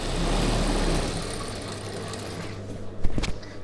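A USHA sewing machine runs a straight stitch on a chudidhar, whirring steadily and fairly loudly before slowing to a halt with a few sharp mechanical clicks at the end.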